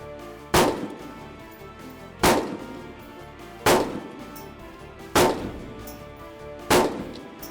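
Five sharp rifle gunshots fired from an unsupported position during a hunt, evenly spaced about a second and a half apart, each a loud crack with a short decaying tail, no talking.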